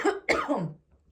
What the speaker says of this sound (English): that right there, me choking up, me coughing